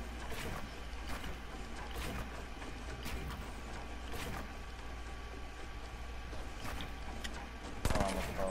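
Video game gunfire pops in scattered bursts against a steady game soundscape, with players talking over it.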